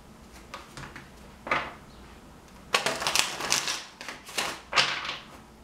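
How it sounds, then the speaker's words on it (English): Tarot cards are shuffled in several quick, crisp riffling bursts with short pauses between, close and fairly soft. "One more shuffle."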